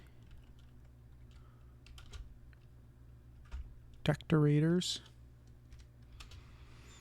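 Scattered keystrokes tapped on a computer keyboard during a home web-design session, soft faint clicks spread across the moments, with a brief spoken word partway through.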